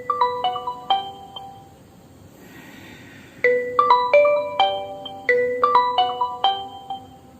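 A melodic phone ringtone plays in repeated chiming phrases, pauses briefly, then resumes, clear and close with no talking.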